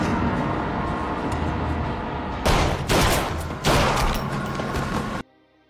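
Several loud gunshots from a film scene crack in quick succession over a noisy, busy background, then everything cuts to quiet.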